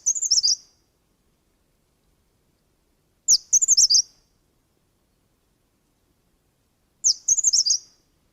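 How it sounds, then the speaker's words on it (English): Gray-sided bush warbler song: three short, high, buzzy phrases of rapid chirps, each about a second long and separated by clear silent gaps of several seconds, heard close and crisp. "we'll just first listen to the gray-sided bush warbler"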